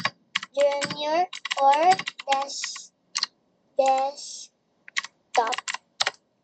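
Computer keyboard typing in short bursts of quick clicking keystrokes, close and clear, with a person talking over and between the bursts.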